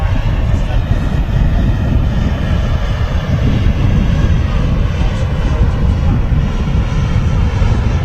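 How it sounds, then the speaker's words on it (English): Etihad Boeing Dreamliner airliner at Manchester Airport, a loud steady jet engine roar that stays constant and close throughout, with no clear breaks. "Etihad Dreamliner."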